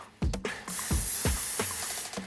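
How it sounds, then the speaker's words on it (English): Cooking oil spray hisses onto chicken for the air fryer in several short, close bursts over a steady rushing background. "Bit of a spray"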